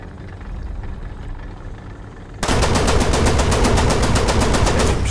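Rapid automatic cannon fire from a Flakpanzer I anti-aircraft tank in War Thunder ground battle, a loud sustained burst of evenly spaced shots starting abruptly after engine rumble.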